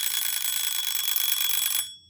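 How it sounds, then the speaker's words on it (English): A small egg timer built into a TARDIS console replica rings with a shrill, continuous metallic bell tone for nearly two seconds, close and loud, then stops abruptly. "I'll start with this, which is a little egg timer thing"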